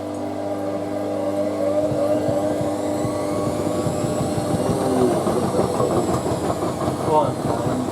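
Hotpoint Aquarius WM63 washing machine draining, a steady, moderately loud mechanical drone with rattling and low rumble throughout, and a voice speaking faintly in the background.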